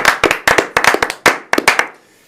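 Claps in quick bursts, close and loud, during a live Korean political commentary broadcast, marking early presidential voting before fading into quiet.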